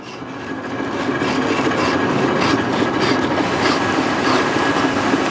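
A tree branch is cut during pruning with steady, rhythmic rasping strokes of a saw through the wood, close and fairly loud, with no voices.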